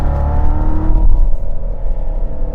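A 2019 Chevrolet Corvette C7 Z06 engine revs loudly and close, a deep, continuous rumbling roar that swells slightly in the middle and holds to the end.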